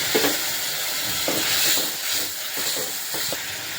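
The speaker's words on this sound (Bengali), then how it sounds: "আমি এবার এটা ভালো করে কষিয়ে নেব।" Spice paste of chili, coriander, cumin and turmeric powders with tomato frying in a pan, giving a steady close sizzle and hiss with soft stirring scrapes throughout and no talk.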